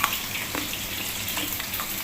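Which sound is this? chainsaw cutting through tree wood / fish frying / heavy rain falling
fish frying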